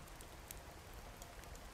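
Rain falling in the survival game Card Survival, a soft, even hiss of drops on surfaces with a few faint patters, steady and low in level with no talk.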